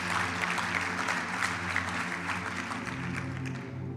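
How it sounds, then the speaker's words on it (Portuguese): Church audience giving a strong round of applause, steady dense clapping from a sizable crowd over a low sustained hum, fairly close and even throughout. "Pode dar uma salva de palmas forte para Jesus"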